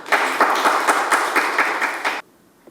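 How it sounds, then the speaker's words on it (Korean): An audience at a social solidarity forum debate in South Jeonnam applauds with steady, moderately loud clapping for about two seconds, then it stops abruptly into near silence. "발제해 주신 우리 이목희 사회연대 포럼 지도위원회 다시 한번 큰 박수 부탁드립니다"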